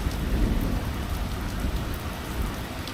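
Heavy rain pours steadily with a deep, continuous thunder rumble underneath, loud and unbroken, no voices.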